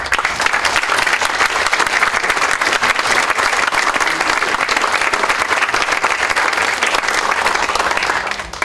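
A large audience in Toronto gives a sustained, loud round of applause to welcome a lecturer on forbidden archaeology, dense clapping holding steady throughout and tapering only at the very end.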